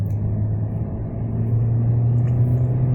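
A Ford Escape with a newly replaced transmission band pulls steadily through its gears on a test drive, the engine's low, continuous rumble holding loud and close inside the cabin with no talk.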